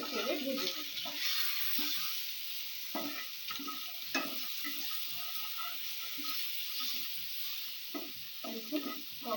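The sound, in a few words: chicken being stirred and fried in a pan for pizza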